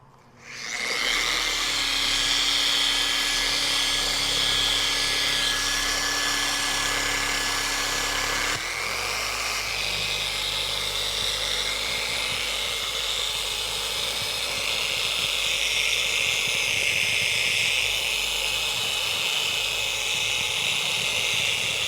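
SPTA 3-inch mini detailing polisher running continuously for over twenty seconds, a loud steady high whine with a low hum that shifts pitch partway through, alone without talk.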